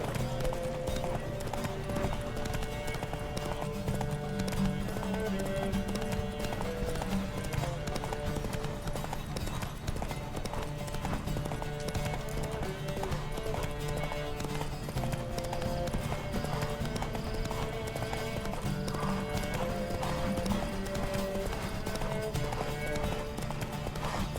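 Steady rhythmic clip-clop of horses galloping in the video game The Witcher 3: Wild Hunt over a constant background score, with no voices.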